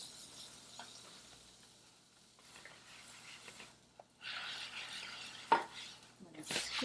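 Sandwich bread cooking in butter in a pan for a Mexican torta, giving a faint, soft sizzle with scattered stirring and utensil clicks that swell louder toward the end, with no talking.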